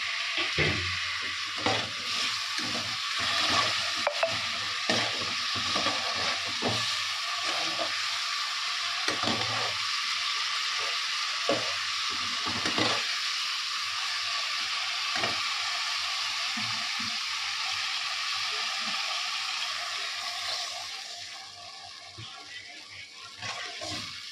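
Tilapia fish frying in hot oil, a loud continuous sizzle with crackling pops and occasional stirring clatter that eases off toward the end, heard close with no voices.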